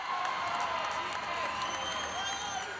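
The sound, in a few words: crowd applauding at netball semi-final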